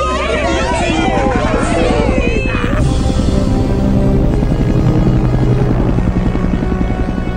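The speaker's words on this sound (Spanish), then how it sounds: "miren todos, son helicópteros." Loud, continuous rotor chopping of helicopters overhead in a South Park cartoon scene, Latin Spanish dub, with excited voices and chatter underneath.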